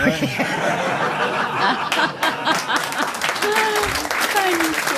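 French radio-show studio audience bursts into applause mixed with chuckles and laughter, with voices talking over it and the clapping swelling in the second half.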